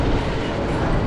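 Iron Gwazi roller coaster train climbing the lift hill at Busch Gardens Tampa: a continuous broad rumbling clatter, steady and fairly loud throughout, with no talk.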